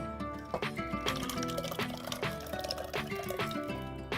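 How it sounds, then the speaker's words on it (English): Pressure-cooked lentils for a five-lentil dhal, cooked with turmeric and garlic, are poured gently into a pan, giving a soft, uneven wet slosh with small splashes and drips over several seconds. "So gently pour that in."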